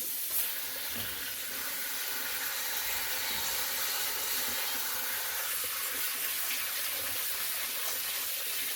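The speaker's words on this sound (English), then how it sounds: "And I'm gonna run cold water over them." Cold water gushes steadily from a tap over carrots in a sink, a continuous close splashing hiss with nobody speaking.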